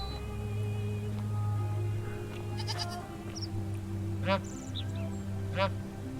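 Geese in the video game The Forgotten City give two distinct honks a second or so apart, heard over a low ambient drone with a voice talking.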